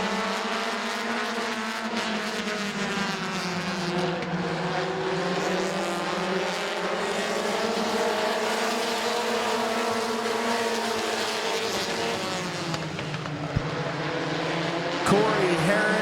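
Race cars roar around an oval at Midvale Speedway, a dense sustained engine drone with pitch swells as the pack passes, under a loud race announcer.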